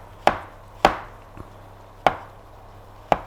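A knife chops mushrooms on a board for a chicken and mushroom julienne. Four crisp, separate strikes come at uneven intervals, close and clear against quiet, with no talking.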